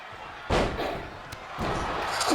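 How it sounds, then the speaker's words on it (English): Heavy wrestling slam onto the ring mat, a loud thud followed by a second impact, under a commentator's voice and faint crowd noise. "Slam followed by a punch."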